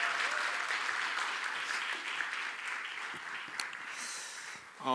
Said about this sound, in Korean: 다시 한번 세 분에게 뜨거운 박수 한번 부탁드리겠습니다